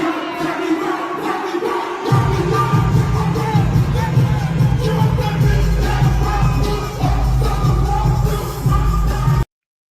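A crowd at an AKA event stomps and jumps, a dense low thumping rumble with shuffling and cheering noise. It starts quieter and swells to a steady, loud pounding that carries on until it cuts off abruptly.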